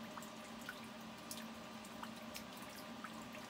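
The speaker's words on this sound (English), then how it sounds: "You see everything dripping." Faint water drips fall at irregular intervals indoors in an Alaska homestead house, soft plinks over a low background hum.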